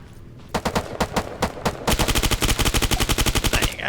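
Heckler & Koch HK416 rifle fire in Arma 3: a few spaced single shots, then a fast, steady automatic burst of sharp, loud, close cracks.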